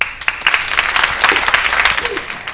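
Crowd applauding and cheering at an Eau Claire Cavaliers basketball game, dense clapping with scattered shouts, loud and continuous, with some voices mixed in.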